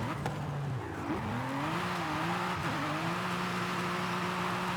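A sports car engine and exhaust in Forza Horizon 5 hum steadily, with the pitch climbing through the revs, dipping twice at gear changes and rising again, close and continuous with no speech.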